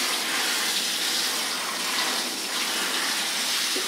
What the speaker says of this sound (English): it's quite easy and it goes quite fast to wet your papillon